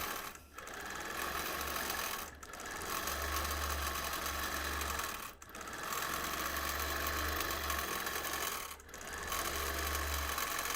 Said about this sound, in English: We have got a bobbin rattle.